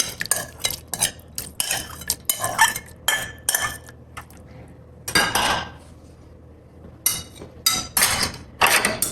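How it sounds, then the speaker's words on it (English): Shredded young coconut and fresh fruit are dumped into a bowl for a Che Thai fruit cocktail dessert, producing a series of clattering, clinking bursts against dishware with short pauses between them. "Just dump my young shredded coconut, fresh coconut in. And I dump all my fruits in."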